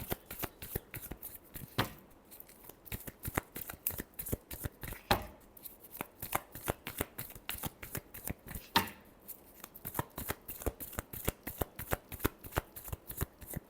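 Tarot cards shuffled by hand in a long run of quick, crisp riffling flutters with brief pauses, close and clear, no talking.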